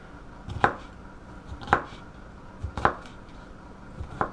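A knife dicing food into small pieces strikes a cutting board in four crisp, evenly spaced chops, about a second apart, close and clear against a quiet background.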